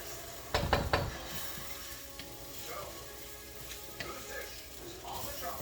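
Kimchi fried rice sizzling in a pan while being stirred with a spatula, a steady soft frying hiss with a few sharp scraping knocks of the utensil against the pan near the start and faint clinks later.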